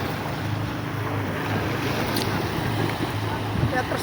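A boat with two motors running on open water, a steady low engine drone beneath broadband wind and water wash, constant and fairly close throughout.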